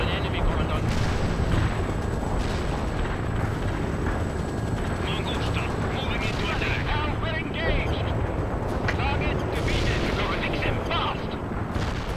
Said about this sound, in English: But the AAA that is firing at him is pretty cool.